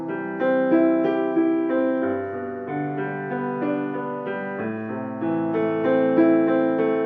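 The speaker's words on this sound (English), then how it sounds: "So we're going to arpeggiate this with both hands, first the left hand and then the right hand" A piano plays a two-handed arpeggio pattern, each chord broken into rising notes first in the left hand and then the right, clear and close with an even, flowing rhythm and no voices.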